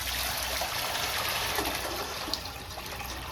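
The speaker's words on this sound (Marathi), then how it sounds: "आता इथे मी बटाट्याचे किस शिजवण्यासाठी पाणी ठेवत आहे." Water gushes steadily into a cooking pot set up for boiling shredded potato, a close, continuous pouring rush with no voices.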